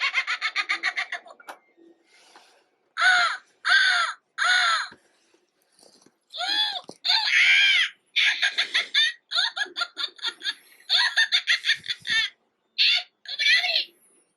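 A Salacious Crumb plush toy from Star Wars playing movie sounds: repeated bursts of high, harsh cackling squawks and chattering cries, loud and close, separated by short silences.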